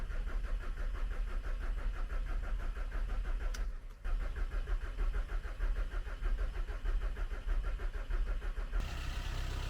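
A VW Transporter T5 engine cranks loudly and continuously up close, with a brief stumble partway through, then catches and settles into a running tone at the end; no one speaks.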